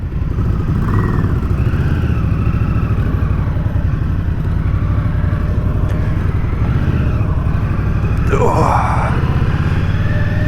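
An Indian Scout Rogue motorcycle rumbles steadily while being ridden, a deep, close engine drone with wind noise, a brief rev change near the end and a rider speaking over it.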